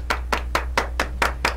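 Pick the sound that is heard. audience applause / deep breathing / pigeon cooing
audience applause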